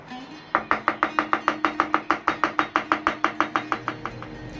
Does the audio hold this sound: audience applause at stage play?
no